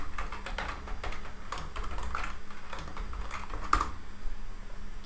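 Rapid, uneven clatter of keys on a computer keyboard as code is typed, close and crisp bursts of tapping with short pauses, no talking.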